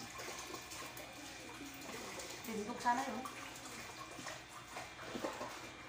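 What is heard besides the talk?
water running while washing a cooking pot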